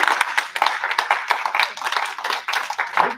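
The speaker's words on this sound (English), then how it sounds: "Can we give these our panelists a round of applause?" An audience applauds panelists at a digital creativity foundation event, a dense, steady burst of many hands clapping that carries on without a break, close and fairly loud.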